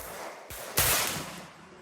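A 50-70 Government rifle round fires once, a single sharp report followed by a decaying echo, heard at moderate loudness in an outdoor setting.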